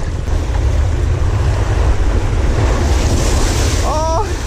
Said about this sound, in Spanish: ¡Ay! Me bañó la ola.